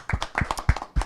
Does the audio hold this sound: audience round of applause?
yes